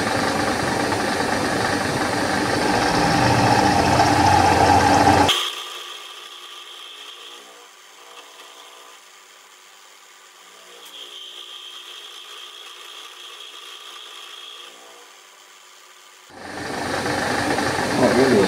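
A powered lathe slotter cuts metal in a feed stroke against a tenon, with loud machine noise at the start and end and a quieter grinding passage in between, close by.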